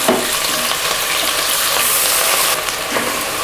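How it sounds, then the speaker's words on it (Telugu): Grated onion frying with bay leaves in a pressure cooker for vegetable biryani, a loud dense sizzle right up close with a few stirring scrapes and no voices. "ఇవి కొద్దిగా వేగాక దీనిలో ఉల్లిపాయ తురుము వేసుకోవాలి."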